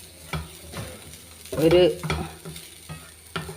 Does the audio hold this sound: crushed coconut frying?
yes